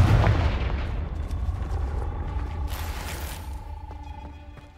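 The Confringo fire spell in Hogwarts Legacy goes off as a loud explosive blast at the start, then a rumbling decay with faint mechanical creaks and rattles trailing behind.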